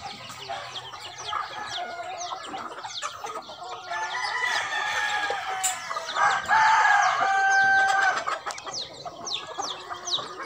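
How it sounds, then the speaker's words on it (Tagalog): Pet chickens cluck close by in a yard while roosters crow loudly, with several long crows in the middle that overlap the ongoing clucking and calling of the flock. "ilalapit natin para makita nyo talaga yung mga alaga kong manok"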